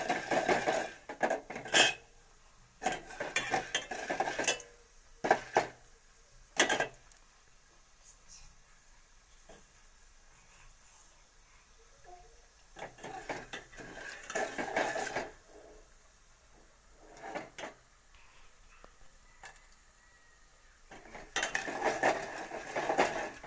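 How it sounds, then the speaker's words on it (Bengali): Corn kernels stirred in a metal cooking pot, with repeated scraping and clinking of a spoon against the pot coming in bursts, close and moderately loud, separated by quieter gaps. "ভুট্টাটা দেওয়ার পরে নাড়াচাড়া করতে হবে, 2 থেকে 3 মিনিট নাড়াচাড়া"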